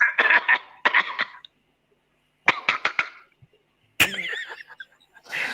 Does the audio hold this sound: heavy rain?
no